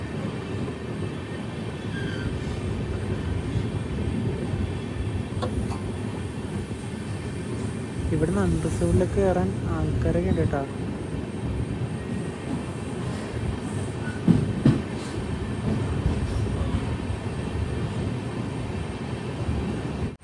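Amrit Bharat Express sleeper train pulling into Kannur railway station, a continuous rolling rumble and wheel noise throughout while someone talks over it.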